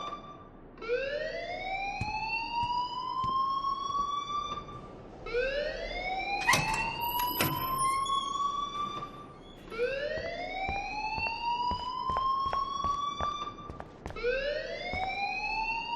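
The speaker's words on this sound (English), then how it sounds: "please turn off that alarm since that's your job" An alarm sounds inside the video game Life is Strange, with a rising electronic wail that repeats in long sweeping cycles, loud and steady throughout with no voices.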